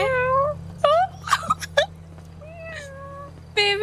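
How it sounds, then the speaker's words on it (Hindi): A cat meows repeatedly in short, rising-and-falling cries, several in quick succession, close and clear over a low steady hum. "बिल्ली की आवाज आ रही है"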